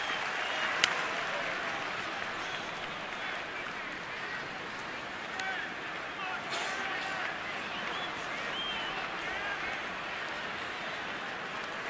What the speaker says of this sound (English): Crowd making some noise to get the final out here in the top of the 7th inning.